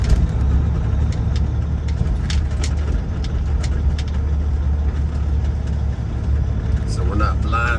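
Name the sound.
semi truck with trailer maneuvering and turning around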